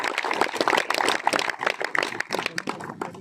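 Audience applause at a cricket league final in Charsadda, a dense burst of clapping from a crowd, loud and close, continuing steadily for a few seconds.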